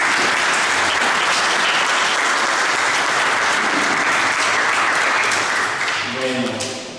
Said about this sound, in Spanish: Y un aplauso para Viviana.